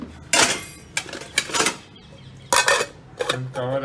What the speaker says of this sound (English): Now we'll cover the vessel.